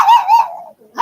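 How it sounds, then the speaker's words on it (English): Dogs bark from across the street in a few quick, fairly loud yaps with a short pause between bursts, and there is no talking. "Dogs across the street are barking."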